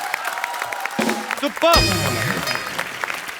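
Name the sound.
audience applause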